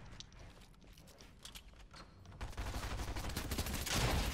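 A new machine pistol SMG in a video game fires in rapid, rattling bursts that start sparse and build into dense, louder sustained fire toward the end.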